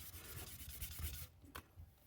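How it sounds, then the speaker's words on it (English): Guitar body lacquer edges are wet sanded by hand with a soft 320-grit sanding pad. The result is faint, close rubbing strokes in a quick back-and-forth rhythm that stop briefly near the end. "I'll use a sanding pad like this, 320, and I'll hit the edges."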